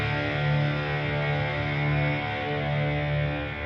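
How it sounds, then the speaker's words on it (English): Distorted guitar from the Heavyocity Scoring Guitars 2 library, a thick sustained drone of gritty harmonics holding steadily at moderate volume with slight swells, no voices. "I also bring that distortion in a little bit later to add some edge to the sound."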